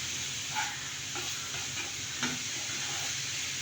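Beetroot frying in a pan: a quiet, steady sizzle and hiss with a few soft scrapes and clicks as it is stirred.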